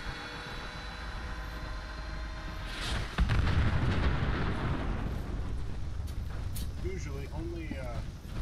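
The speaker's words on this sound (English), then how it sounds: "Looks like he's going to explode." An explosion in the video game Fallout 76 sets off a sudden loud boom midway, after a steady hum, and leaves a rumbling tail that fades out. Faint game sounds follow, with no speech over it.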